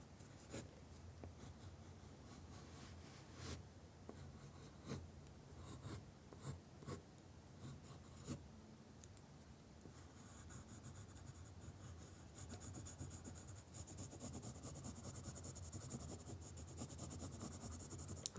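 A 6B graphite pencil scratches and rubs across paper in steady, close, quiet strokes with short pauses, growing slightly denser toward the end, with no talking.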